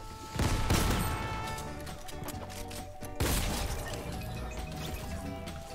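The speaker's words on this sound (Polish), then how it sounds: "Ktoś strzela. Z drugiej strony." Gunfire in the video game Fortnite: two sharp loud bursts of shots, one near the start and another about three seconds later, each trailing into a rumbling, busy game soundscape.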